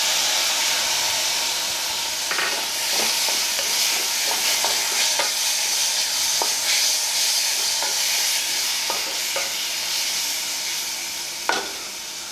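Tomatoes and asafoetida sauté in a pan with a steady hissing sizzle for the whole stretch, punctuated by irregular clicks and scrapes from stirring.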